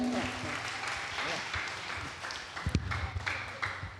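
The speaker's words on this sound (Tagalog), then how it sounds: "Palakpak po sa Panginoon" A church congregation applauding at a Sunday worship service as the pastor is welcomed, moderate crowd clapping in the room with voices and some background talk mixed in throughout.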